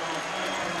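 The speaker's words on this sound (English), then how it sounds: "Wisconsin crowd reacts." A Wisconsin Badgers basketball crowd at a 2014 NCAA tournament game against Baylor reacts with a brief, steady roar of cheering and clapping filling the arena.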